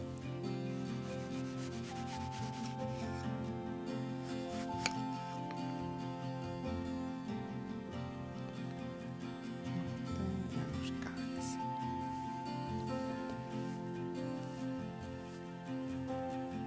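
Rock wool growing cubes for a homemade hydroponic system being trimmed, a steady dry scraping and rubbing that continues throughout, close but fairly quiet, over a faint background hum.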